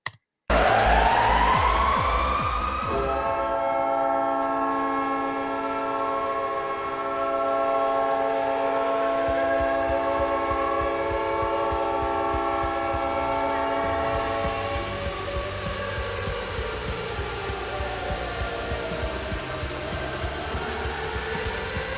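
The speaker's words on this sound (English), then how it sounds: "That was like the most genuine train horn I've heard out of all of them." A recorded train horn blasts loud and sustained for about twenty seconds, with its chord shifting partway through and rail noise rumbling underneath, and no talk over it.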